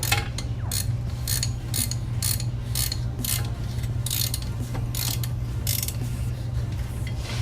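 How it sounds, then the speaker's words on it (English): A big ratchet tightening brake caliper bolts on a 2006 Toyota Highlander Hybrid, a rapid series of sharp metallic clicks repeating steadily over a low shop hum. "I'll take the big ratchet I got and throw that on there and tighten them up real good."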